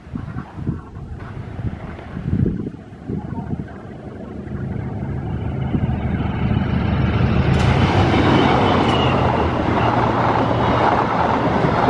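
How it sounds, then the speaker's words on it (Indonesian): A Bandung Raya local train rushes past near Gedebage station, its roar swelling from quiet to a loud, sustained rumble mixed with heavy wind buffeting on the microphone. "Setelah kereta api lokal Bandung Raya melintas"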